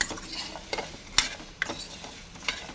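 A spatula stirs okra (bendakaya) frying in a pan, making a few sharp scraping clicks against the metal over a faint, steady sizzle.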